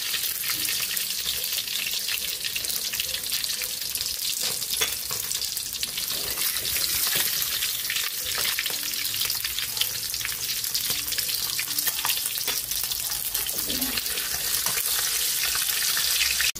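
Dried milkfish (daing na bangus) frying in oil in a pan, a loud, dense, continuous crackling sizzle that holds steady throughout, close up and without speech.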